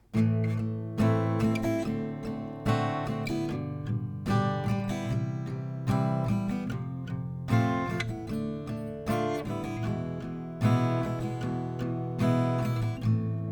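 Acoustic guitar strumming chords in a steady rhythm, changing chords every couple of seconds, close and clear with no one speaking.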